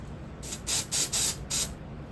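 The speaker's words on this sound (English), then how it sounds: "It's just a spray can that we're going to use." Four or five short hissing bursts of an aerosol can spraying mold release for plasticine clay, close by, separated by brief pauses, with no talking.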